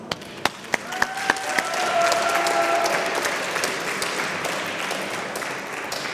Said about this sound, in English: Please give a warm applause.